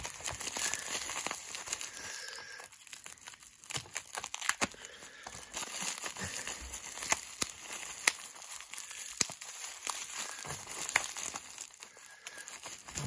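Tape being peeled off a parcel containing an N scale model locomotive, heard as continuous crinkling and tearing with sharp crackles throughout, close and moderately loud, with no talking.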